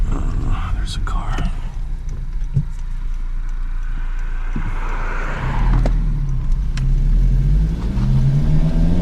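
A car passes on a foggy road, its engine rumble swelling from the distance and rising in pitch as it goes by, heard from inside a Civic Si over that car's own engine drone and faint whispered talk.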